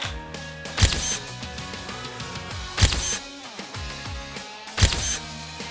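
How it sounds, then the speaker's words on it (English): A DSLR camera shutter fires three sharp test-shot clicks about two seconds apart over soft background music. "I'm going to take a test shot."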